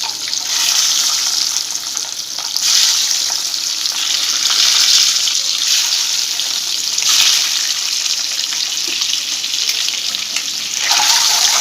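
Eggs fry in a pan with turmeric and chili powder for an egg curry, a loud, continuous close sizzle that swells and settles in waves, no voices.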